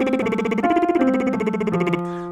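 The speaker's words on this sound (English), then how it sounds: "It's an arpeggio that goes up to the octave" Lip trill arpeggio rising to the octave in a soprano warm-up, sung near the secondo passaggio: a steady buzzing voiced tone stepping upward through several pitches, close and loud, then cutting off.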